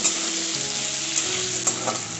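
Potato pieces frying in a pan with chopped tomato and oil make a continuous close sizzle with a few light stirring scrapes.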